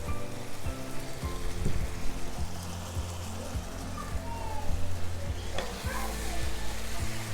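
Chicken, sweet corn and red beans sizzle in a pan while being stirred, with a steady frying crackle and repeated scraping and clinking under occasional talk.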